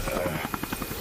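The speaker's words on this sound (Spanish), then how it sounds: "Que se van con el helicóptero." A helicopter in RoboCop Rogue City flies off, its rotor a fast rhythmic chop under a loud engine drone, close and steady through the brief moment.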